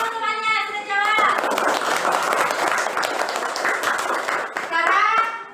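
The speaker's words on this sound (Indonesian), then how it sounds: "Tepuk tangan untuk temannya sudah jawab." Schoolchildren in a classroom clap for a classmate who answered, a dense burst of applause lasting several seconds, with a teacher's voice and children's chatter before and after it.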